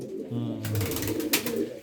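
Pigeons coo softly in low, throaty murmurs nearby, with rustling and a brief scuffle in the background.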